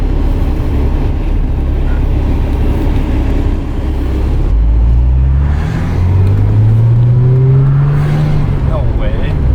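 A Porsche Cayman S fitted with a full SOUL exhaust drives on the road, its engine a steady near drone with rising revs toward the end, and people talk over it throughout.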